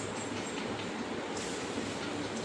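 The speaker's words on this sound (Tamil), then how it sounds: "ட்ரெயின் வந்துட்டு, ட்ரெயின் வந்துட்டு" A train pulls into a station, a steady, loud wash of rumbling rail noise running the whole time with no voices over it.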